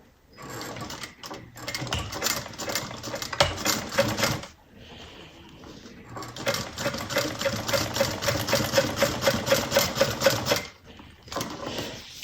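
A sewing machine stitches a narrow fabric strip with contrasting thread in rapid, rhythmic bursts of needle clatter, pausing briefly between runs; close and moderately loud, with no talking.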